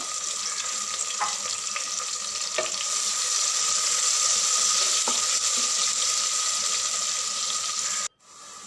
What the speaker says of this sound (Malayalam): ഉള്ളി നന്നായിട്ട് വാട്ടിയെടുക്കാം